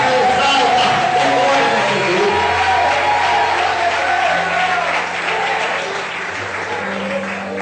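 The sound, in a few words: congregation applauding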